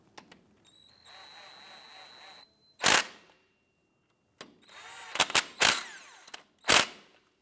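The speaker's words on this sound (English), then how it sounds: "we can go ahead and snug those down gently with our impact gun" An impact gun snugs down the 12 mm caliper bolts on the front brakes of a 1997-2006 Jeep Wrangler, with a whirring spin-up followed by several sharp, loud hammering bursts separated by brief pauses.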